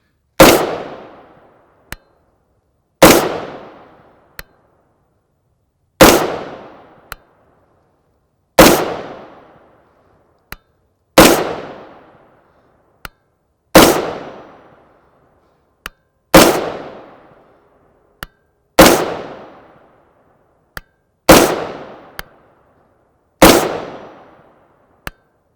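Rifle firing 5.56x45mm 55gr FMJ M193 ammunition: ten loud, evenly spaced single shots about every 2.5 seconds, each with a decaying echo and a faint metallic ping after, with no talk.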